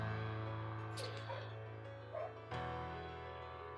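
Dogs bark and yip in the No Man's Sky survival game on a hot planet at night, as a few faint, scattered calls over a steady droning hum, with talk heard alongside them.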